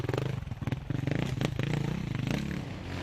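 A Husqvarna enduro motorcycle at an Enduro World Championship race in Portugal, its engine rapidly pulsing and revving nearby with clattering as it rides over rough terrain.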